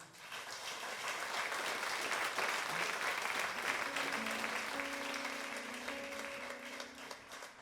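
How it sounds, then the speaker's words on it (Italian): Steady applause from a live concert audience at a 2015 RSI show, a broad dense wash of clapping filling the hall for several seconds, fairly distant, while faint held instrumental notes begin underneath toward the end. "quindi un applauso per lei"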